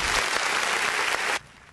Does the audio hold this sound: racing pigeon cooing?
no